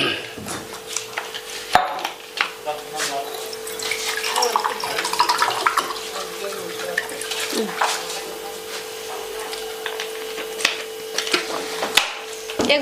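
Drinking water is poured and splashed indoors in uneven bursts, with clinks and trickles over a steady background hum, set against a faint household backdrop.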